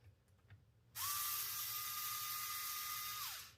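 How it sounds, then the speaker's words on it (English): Near silence, then a power drill whirs on sharply and runs at a steady high whine for a few seconds before spinning down. "if you have a drill, one of those, this will fit right in there"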